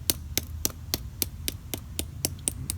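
A hammer lightly taps a new battery terminal onto a Coolster ATV battery, giving about eleven sharp, evenly spaced metallic knocks at close range.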